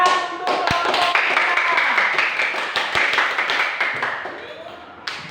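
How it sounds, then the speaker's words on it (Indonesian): A classroom group claps for fellow students after their group discussion presentation, steady hand clapping filling most of the span with speech mixed in, fading toward the end. "tepuk tangan untuk kelompok 3."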